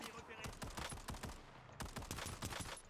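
Gunfire in the Warzone battle royale game, rapid bursts of sharp shots in quick clusters with a short pause midway, loud and close throughout.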